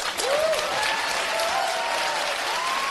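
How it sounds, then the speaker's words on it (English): A large crowd applauds and cheers, a dense continuous roar of clapping with high whoops and whistles rising over it, loud and sustained. "And the crowd goes wild."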